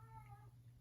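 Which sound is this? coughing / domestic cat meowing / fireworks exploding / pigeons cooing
domestic cat meowing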